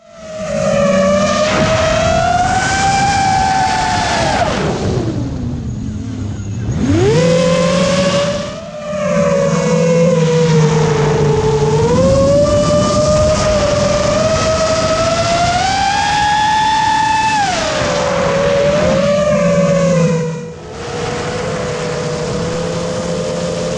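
Racerstar AirA BP 2508 brushless motors on a quadcopter whine loudly and close, their pitch rising and falling in sweeps, dropping sharply and surging back as the quad pulls out of a dive.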